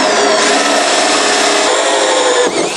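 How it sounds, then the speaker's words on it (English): A power drill cuts a 50 mm hole through a wall for a toilet ventilation system, giving a loud, steady grinding drone that runs unbroken and close, with a brief dip near the end. "Firstly, we're going to be drilling our hole, which we predetermined from the hole in the back of our cistern."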